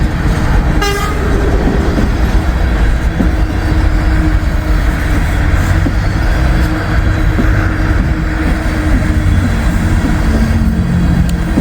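A Norfolk Southern freight train rolls past a collapsed building in cold weather, with a loud sustained rumble and rattle of cars and a short horn blast near the start.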